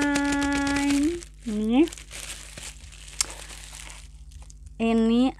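Plastic or paper packaging crinkles and crackles steadily while a book is unboxed, with a sustained tonal voice heard at the start and briefly again near the middle and end.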